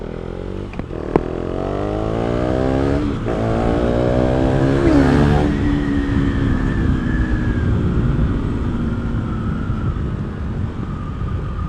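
A KTM Duke 390 or Husqvarna Svartpilen 401 motorcycle engine revs up and accelerates nearby, its pitch climbing loudly, then settles into a steady drone as it moves off.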